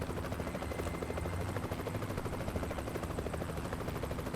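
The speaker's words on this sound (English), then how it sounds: "Oh, there's that bloody helicopter again." A helicopter in the American Truck Simulator game, near the Grand Canyon, gives a steady, loud rotor chop with constant pulsing that fills the whole span without any talk.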